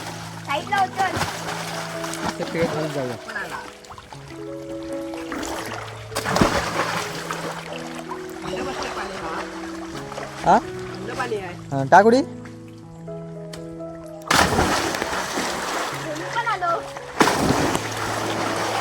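Water splashes in bursts as people swim in a village river, irregular close sloshes and splatters under voices and steady tonal sounds.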